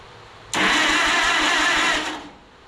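The engine of a Minneapolis Moline RTE tractor, being tested after a rebuild with no spark, cranks over in a loud, close, steady churning whir for about a second and a half before winding down.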